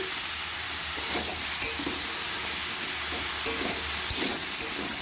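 Pieces of bottle gourd fry uncovered in a pan with a constant, even sizzle close by, joined near the end by a few soft clicks of stirring.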